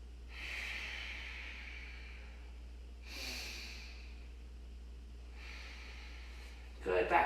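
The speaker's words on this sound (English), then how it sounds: "Big breath in." During a yoga session, a slow, deep inhale through the nose rises softly, followed by two further gentle breaths, quiet and close with a faint steady hum beneath and a brief rustle at the end.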